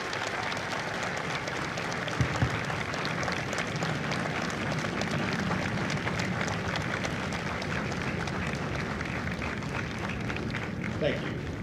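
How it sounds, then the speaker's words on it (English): A large audience at a Marine Corps recruit graduation for Kilo Company, 3rd Recruit Training Battalion, applauds veterans with dense, steady clapping that holds for about eleven seconds, with faint crowd murmur underneath. "Ladies and gentlemen, a round of applause for their dedicated service to Corps and country."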